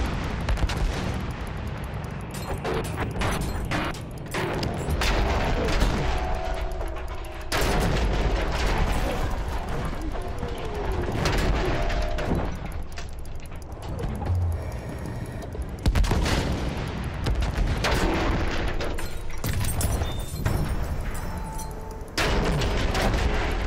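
Naval guns firing during the Battle of Heligoland Bight in a video game, with dense, continuous booming salvos and rumbling blasts filling the whole stretch, loud and close with overlapping detonations.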